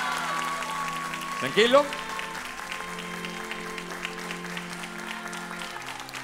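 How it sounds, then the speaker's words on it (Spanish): Studio audience applause on a Spanish television talent show, cheering a gentleman on stage; steady clapping runs under talk and a faint musical tone, with a brief louder swell partway through. "Un aplauso para el caballero y para todos ellos, por favor."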